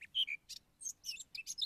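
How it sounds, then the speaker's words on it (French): Seabirds on St Brandon island give a quick run of sharp, high chirps and tweets in irregular bursts, close and clear over a quiet background with no talking. "les oiseaux vivent à côté de l'homme sans peur"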